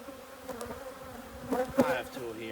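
Honey bees buzzing steadily around an opened hive during spring beekeeping, a close, continuous drone that swells in places as bees fly near.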